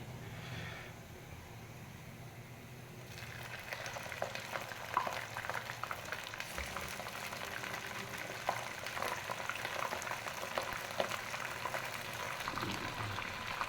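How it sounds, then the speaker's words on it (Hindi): Chicken and browned onions fry in a pan with a steady, faint sizzle and light bubbling crackle that runs without a break, with no voices over it. "इधर हम चिकन को फ्राई कर लेंगे,"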